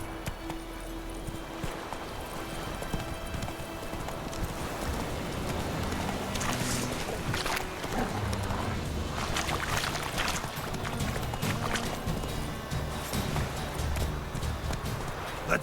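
Roach the horse galloping in The Witcher 3, a steady drumming clip-clop of hooves mixed with the game's rushing ambience and occasional splashing bursts, continuous and fairly loud throughout.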